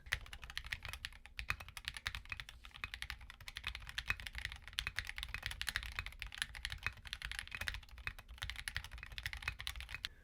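Typing on a keyboard fitted with KTT King White switches, a dense, continuous patter of crisp, close keystrokes at a quick even pace, heard alone with no voices.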